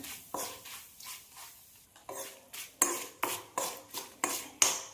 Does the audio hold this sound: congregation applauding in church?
no